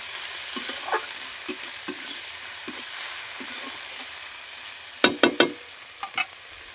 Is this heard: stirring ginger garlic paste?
yes